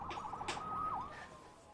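A siren in the Marvel's Spider-Man video game, a rising and falling electronic wail that sweeps up and down once before settling into a steady tone, fairly quiet behind game ambience.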